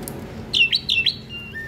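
A jalak starling gives a few sharp, whistled chirps in quick succession, close and clear over a quiet background, followed by a fainter note.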